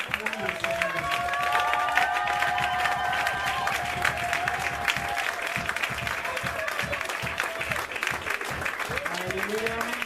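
A church congregation at a prayer day for peace breaks into sustained applause, dense steady clapping filling the room with some cheering and voices mixed in throughout.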